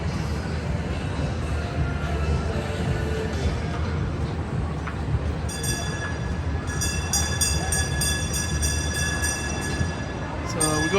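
A ride-on train rolling through the SM Mall in Angeles City, with a steady rumble and mechanical clatter under busy indoor mall ambience, and tonal whistle-like tones joining partway through.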